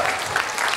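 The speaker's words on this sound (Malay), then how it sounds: "satu tepukan gemuruh untuk anda semua" A seminar audience in a hall breaks into a brief burst of dense applause, loud and steady throughout, with no voice over it.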